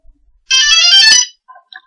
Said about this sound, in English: Hear all the ESCs beep